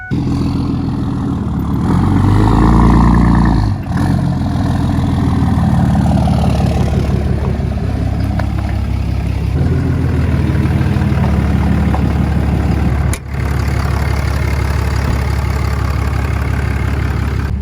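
An abandoned Ford F550 truck engine runs loud and close, swelling briefly early on before settling into a steady, rough idle for the remainder.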